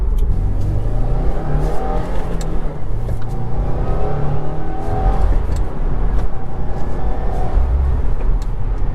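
A turbocharged Subaru WRX Premium accelerating hard from inside the car, its engine droning and rising steadily with a loud, continuous rumble and no talking over it.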